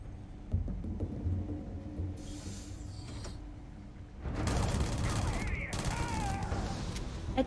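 Gunfire in the Starfield sci-fi game: a burst of dense, loud shots beginning partway through and continuing to the end, after a stretch of mechanical creaks and clanks, with faint game voices mixed in.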